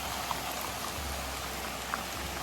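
Steady, dense rain falling close by over village farmland, a constant hiss with a few sharper drips standing out.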